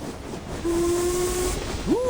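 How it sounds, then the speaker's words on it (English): Steam train whistle from the video game Reverse 1999, a loud sustained tone that ends in a rising and falling swoop over steady hissing steam as the train departs. "With a sharp whistle, the train surges forward, chugging"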